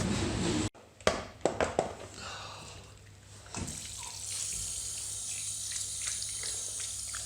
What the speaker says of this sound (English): I think I'll rinse off my shoe a tiny little bit as well.